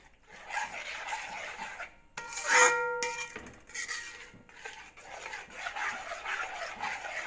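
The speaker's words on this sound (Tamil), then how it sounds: "அடிபிடிக்காமல் கிண்டிகிட்டே இருக்கிறோம்." Beetroot halwa being stirred in a pan, a spoon scraping and rubbing the thick mixture in steady, repeated strokes at close range with no talk.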